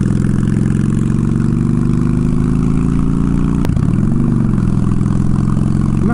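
A Honda Shadow motorcycle engine drones steadily while riding, with a brief sharp click and a dip then rise in engine pitch as a gear is shifted midway, loud and close with no talk.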